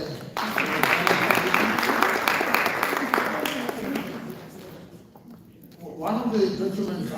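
Audience applause at a department strategy presentation, steady clapping for several seconds that thins out near the end, with a voice or room noise rising after a brief lull.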